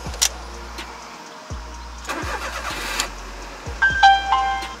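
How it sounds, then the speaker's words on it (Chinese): A Perodua Viva 850cc three-cylinder engine in a five-speed manual car runs with a low, steady hum, punctuated by periodic thumps and clicks and a brief rising whine near the end, with no talking. "这是一个少过1000cc 的三缸引擎，850cc。 有点小 V6 的声音哦"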